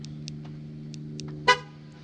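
A single short horn chirp from a 2019 Ford Ranger XLT pickup locking sounds partway through, with a few faint electronic beeps before it over a low steady hum.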